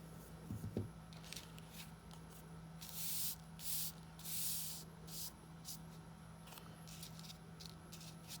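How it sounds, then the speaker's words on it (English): Trimming the edges off a craft piece, a series of faint, close rasping scrapes and brushing strokes, several longer hissy passes in the middle, over a quiet background hum. "So I like to cut off those edges a little bit."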